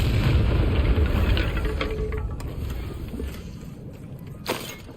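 A Confringo spell explosion in the Hogwarts Legacy video game: a heavy booming blast that fades into a rumbling tail, with a sharp pop near the end.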